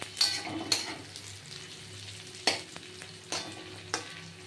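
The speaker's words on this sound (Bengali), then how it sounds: "পেঁয়াজটা রসুনটা ভালো করে নারকেলের সাথে ভাজা ভাজা হবে" Onion and garlic fry with grated coconut in a pan, a steady sizzle broken by several sharp spoon scrapes and stirs against the metal, close and clear with no talking.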